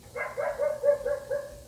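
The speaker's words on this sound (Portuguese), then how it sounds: "o cachorro da vizinha tá latindo" A neighbour's dog gives a quick run of about six sharp barks and yips, fairly faint and somewhat distant, in a quiet setting with no speech.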